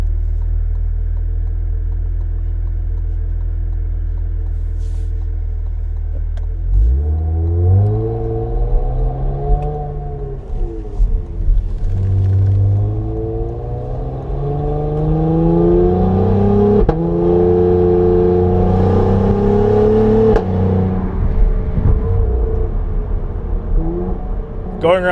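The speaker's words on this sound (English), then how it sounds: "Sounds really good for a 3-liter V6." A Cadillac CT5-V's 3-liter V6 engine idles steadily, then revs up and down through several rising and falling sweeps as gears downshift, loud and close throughout.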